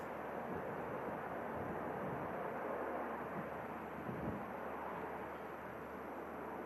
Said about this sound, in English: Great touchdown. Really dealt with the blustery conditions very well there, the Ryanair